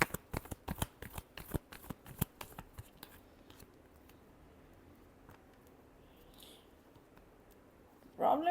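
A deck of tarot cards is shuffled in quick riffling bursts for about three seconds, close and crisp, then settles into quiet room tone, with a short louder rustle at the very end.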